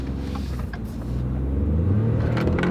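A Ford truck with a 6-speed transmission pulls away from a stop on a country road, its engine rumbling low and steady inside the cab and rising slightly as it accelerates.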